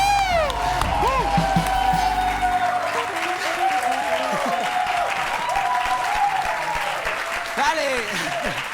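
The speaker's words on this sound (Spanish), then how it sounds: "un fuerte aplauso" Loud crowd applause with cheers and whoops, while electronic music with sweeping tones and a deep bass note plays over it.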